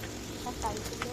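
Fish roe sizzling in a little oil in a pan for a curry, a soft continuous frying hiss with scattered small crackles, close and fairly quiet.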